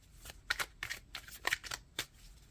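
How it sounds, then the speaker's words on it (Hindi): Tarot cards slide and flick from a deck in a quiet room, a series of about six soft papery swishes and snaps spread irregularly over two and a half seconds. "और मैं आखिरी कार्ड निकालूंगी इस डेक का"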